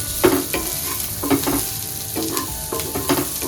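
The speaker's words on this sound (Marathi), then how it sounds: "कांदा आपल्याला मध्यम आचेवरती एकदम थोडा शिजवून घ्यायचा आहे" Onion sautéing in a pan over medium heat, a bright continuous sizzle broken by repeated spatula scrapes and stirring strokes at a quick irregular rhythm, close up with no voices.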